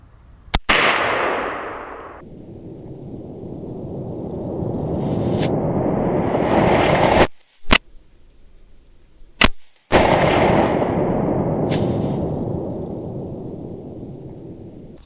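.458 SOCOM rifle fired into a Boston butt pork shoulder outdoors, with one sharp, loud report followed by a long rolling echo, then a couple of abrupt clicks or cuts before the rumble resumes.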